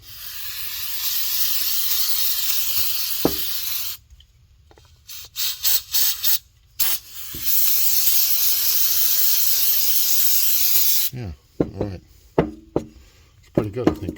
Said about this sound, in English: I'll get it sprayed down a little bit